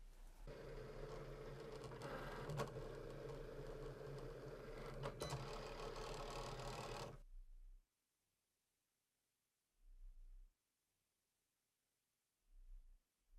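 A Cricut Explore Air 2 cutting machine runs a cutting pass for a puff print hoodie project, giving a steady mechanical whir with brief ticks for about seven seconds before it stops, followed by near silence and a couple of faint low thumps.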